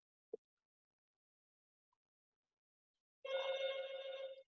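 A telephone rings during a chemistry lesson, a loud close burst of trilling bell tone about a second long following a sharp click in otherwise quiet surroundings.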